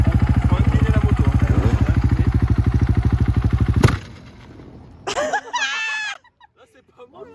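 Loud, close motorcycle engine on dirt chugging hard in rapid rhythmic pulses during a drift U-turn attempt, then cutting off, followed by a voice and a few scattered faint knocks.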